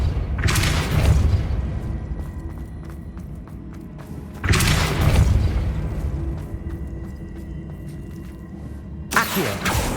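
The Depulso spell in Hogwarts Legacy goes off as three deep booming bursts, each a sharp whooshing thump that decays into a rumble, spaced a few seconds apart over low game ambience.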